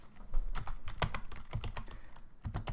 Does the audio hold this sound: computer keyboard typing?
yes